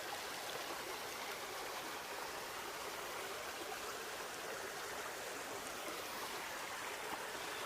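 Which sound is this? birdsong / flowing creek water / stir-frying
flowing creek water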